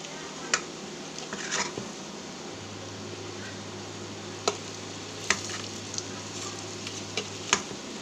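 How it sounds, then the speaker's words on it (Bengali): Food frying in a pan to a crisp, a steady low sizzle with a faint continuous hum and a few sharp clicks and taps from the pan or utensil, no voices. "একটু মচমচে করে ভেজে নেব, যেন ভাজাটা শক্ত হয়"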